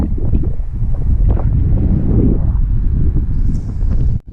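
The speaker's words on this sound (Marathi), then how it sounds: "वारा बघा गावात वारा बघा किती आहे" Steady roaring wind of a monsoon storm in a coastal village buffets the microphone throughout, a loud low rumble with gusty surges and faint rustling, cutting off abruptly at the end.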